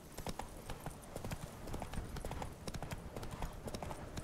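Geralt's horse Roach gallops in The Witcher 3 video game, with a rapid, steady clip-clop of hooves that runs throughout.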